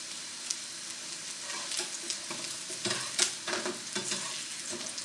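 Square sausage frying in a pan, a moderate steady sizzle with scattered pops and spits, no voices.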